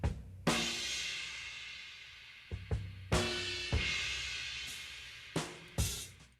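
A drum break sample, detuned down four to five semitones, plays heavy, deep kick and snare hits with washy cymbal decays in a loose groove, about nine strikes in six seconds, with no talking.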